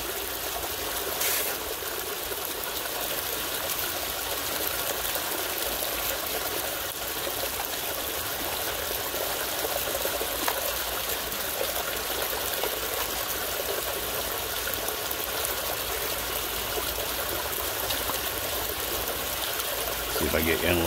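Water flows and trickles steadily through a recirculating sluice loaded with dirt for panning, giving a constant close, even wash with a faint pump hum beneath it.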